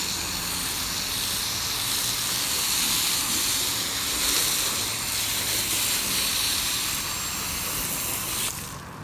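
An auto wash sprayer, its container nearly empty, gives a continuous loud hissing spray that sputters slightly and cuts off just before the end.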